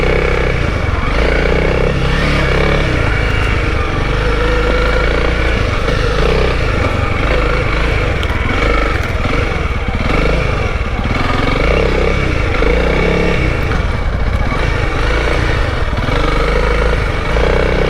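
A Honda Trail 125 motorcycle being ridden, its small single-cylinder engine droning steadily and loudly up close for the whole stretch, with wind buffeting and no talk.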